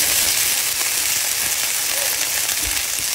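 Green beans fry in hot bacon grease in a pan, giving a loud, continuous, close sizzle with faint crackles throughout.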